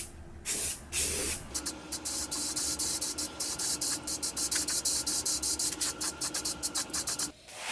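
Aerosol spray paint in satin heirloom white going onto an old Western Auto outboard boat motor cowl, close steady hissing in short repeated bursts with brief gaps, after a few initial puffs.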